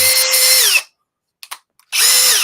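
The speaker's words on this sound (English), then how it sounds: "Of every drill that you have there, that is the smoothest." A Metabo MultiVolt cordless drill spins up loud and close with a steady whine, winds down to silence with a couple of brief knocks, then revs up again at full speed.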